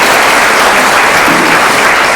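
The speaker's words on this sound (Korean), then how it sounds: "참석해 주신 내빈 모두에게 다시 한번 뜨거운 박수를 부탁드립니다." Audience applause at a forum on Andong's future strategy held in the National Assembly members' hall, a loud, dense, steady clapping from a large seated crowd with no voices over it.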